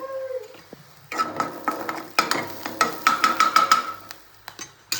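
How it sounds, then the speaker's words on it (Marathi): Chopped onion sautéing in a pan for upma, a close sizzle broken by a series of sharp spatula scrapes and knocks against the pan, starting after a short quiet moment. "हा कांदा टाकलाय परतायला"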